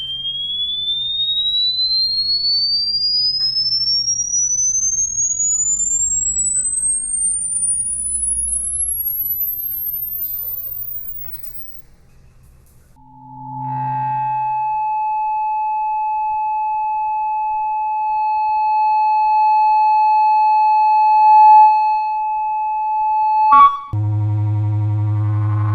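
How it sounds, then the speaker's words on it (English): An electronic feedback-style tone: a pure whistle sweeps steadily upward, then after a pause steady sustained tones ring on, loud and unbroken, ending in a brief burst of harsher noise. "the feedback effect, a noise created by 2 sources which are too close to each other"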